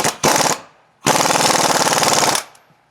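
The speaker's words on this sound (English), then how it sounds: "And then we'll tighten up the big bolt that we left loose from last time, from earlier." An impact wrench tightens a large bolt on the new MetalCloak Fox steering system of a Jeep Wrangler JK Rubicon. It gives a short loud hammering burst, then a longer rattling one about a second and a half long, close and alone.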